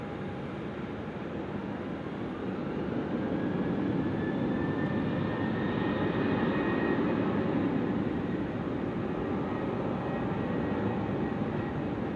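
An airliner takes off from runway 16 right at Sydney Airport, a loud, sustained broadband engine roar with rising whine tones that swells and holds steady throughout, with no talking.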